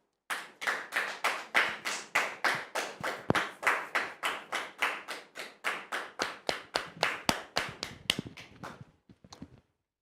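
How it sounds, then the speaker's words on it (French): Clapping welcoming a guest on stage, a single pair of hands close by striking about thirty sharp, evenly spaced claps that slow and stop near the end, with no crowd behind. "Merci de recevoir Monsieur Athanase Kofi sous vos applaudissements"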